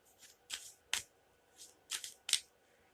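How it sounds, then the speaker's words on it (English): A tarot deck is shuffled by hand in six quick, crisp riffles of the cards, each burst short and close, with brief quiet gaps between them and no talking. "just a quick shuffle, and then a cut"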